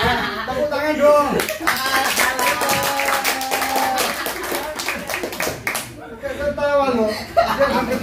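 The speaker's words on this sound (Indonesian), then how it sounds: "Tepuk tangan dong." An audience at a card-guessing icebreaker session claps in a quick, uneven patter with scattered chuckles and voices mixed in, fading briefly before a speaker talks again.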